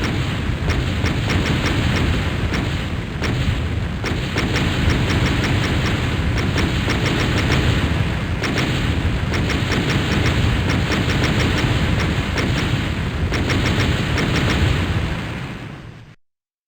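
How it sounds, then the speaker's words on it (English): A long rolling barrage of booming explosions as a fortress crumbles in Trump DOOM, a first-person shooter game, continuous loud rumble with repeated bursts before cutting off abruptly. "Hillary's fortress begins to crumble"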